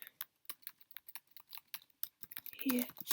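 Quick, uneven keystrokes on a computer keyboard as a web address is typed in, close and fairly quiet clicks arriving in short bursts with brief pauses between them.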